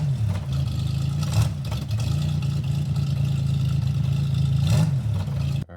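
A car engine idles steadily with a muffler fitted to the exhaust, a low, even rumble up close with light clatter and a couple of small surges, cutting off abruptly at the end.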